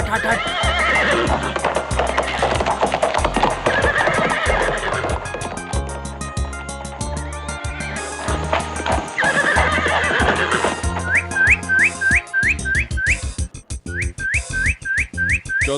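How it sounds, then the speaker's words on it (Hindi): A horse in a Hindi animated comedy gallops with rapid clip-clop hooves and loud neighing, set against busy music and whistling, with a run of sharp whinny calls near the end. "और तेज दौड़ाओ, घोड़े को और तेज दौड़ाओ।"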